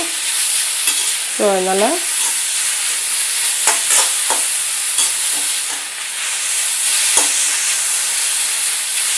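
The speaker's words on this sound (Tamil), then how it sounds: "நல்லா பெருசாக வச்சு டக்கு டக்குன்னு வதக்கி" Vegetables and masala for chapathi are sautéed over a high flame, a loud close sizzle with repeated scraping stirs, a brief whistling chirp early on, and a few spoken words.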